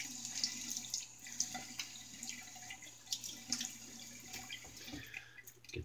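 Faint running water from a tap while rinsing an adjustable safety razor during a shave, a soft continuous splash with small clinks and drips, no talking.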